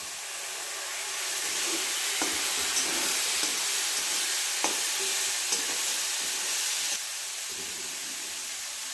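Soy sauce hits homemade pasta in a hot pan and sets off a loud, steady sizzle with hissing steam. Faint stirring clicks sound close up, and nobody talks.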